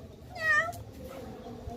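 A person imitates a cat's meow with a single drawn-out, rising and falling miaow, moderately loud against a quiet room background during an animal sound imitation game.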